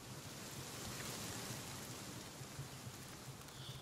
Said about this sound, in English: I swear that sounds like it's gonna rain